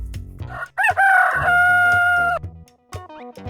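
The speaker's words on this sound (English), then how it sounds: "Rooster." A rooster crows loudly and close, one full cock-a-doodle-doo with a long held final note, among farm-animal sounds, followed by a few short clucks and scattered noises.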